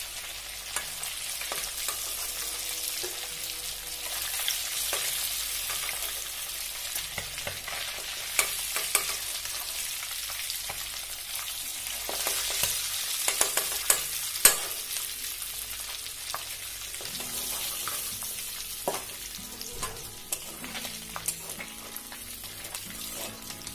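Hilsa fish frying in oil gives a steady, close sizzle with scattered sharp spatter pops throughout, and a few faint clinks from a pan or utensil break through now and then.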